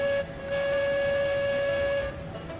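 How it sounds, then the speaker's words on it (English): A steam locomotive whistle in the Railroads Online train game blows one long, steady, loud tone. It holds for about two seconds, then cuts off. "whistle, who doesn't love that"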